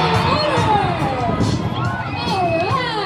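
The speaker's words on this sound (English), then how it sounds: "how about another round of applause for our dolphin friends?" An audience at a dolphin show cheers and shouts, with children's whoops and crowd noise swelling in short bursts against a busy background of voices.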